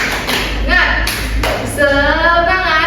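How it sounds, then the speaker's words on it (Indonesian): Children in a primary school classroom do the 'tepuk semangat' clapping chant, a rhythmic series of claps close by mixed with chanting voices. "kalau ibu bilang tepuk semangat, kita tepuk semangat"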